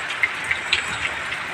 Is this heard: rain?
yes